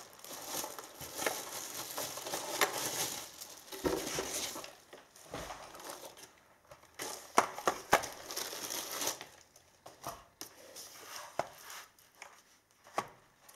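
Crinkling and rustling of a plastic bag as a Speedlink Parthica keyboard is unwrapped, irregular crackly bursts close by with short quiet pauses between handling noises.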